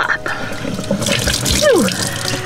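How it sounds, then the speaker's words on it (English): Cold water splashes and runs from a tap as a face is washed in the morning inside a van on Vancouver Island, a continuous close watery trickle with small splashes and a brief voiced sound mixed in. "I love the feeling of cold water on my face in the morning."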